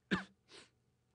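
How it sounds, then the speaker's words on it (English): A single short, sharp cough in a quiet voice recording is followed by a softer breathy exhale, then near silence. "So the cough ends here"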